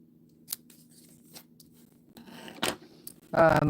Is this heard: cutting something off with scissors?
yes